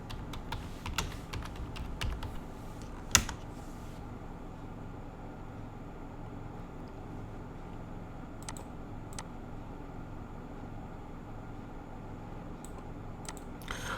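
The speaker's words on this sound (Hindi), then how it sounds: "यहाँ पे हम टाइप करेंगे कैश फ्रॉम ऑपरेशंस।" Keys clatter on a computer keyboard in a faint, scattered run of quick taps with a few louder strikes over a steady background hum, as a financial metric is entered into a stock screener.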